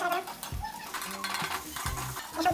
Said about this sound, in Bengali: নাড়াই কিন্তু কম নাড়া যাবে না, ঠিকঠাক মতো ভালোভাবে নাড়তে হবে।